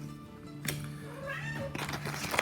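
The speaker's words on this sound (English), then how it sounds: "The cat says meow." A cat meows in a few drawn-out, wavering calls, close and fairly loud over a steady low hum, with no talking.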